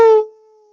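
A voice imitates a wolf pack howl, one loud sustained tonal howl that starts strong and trails off into a long, fading held note.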